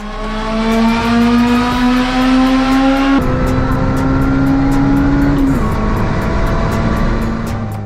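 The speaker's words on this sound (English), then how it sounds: "I actually had this supercharged at one point. It was really cool supercharge." A supercharged Acura RSX engine revs hard and holds a steady high supercharger whine, shifting pitch twice as the revs change, loud and close with no talk.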